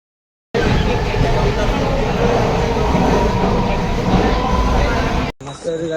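A Mumbai local train roars steadily for about five seconds as a loud, continuous rumble with rattling and wind noise, then cuts off abruptly into quieter background sound.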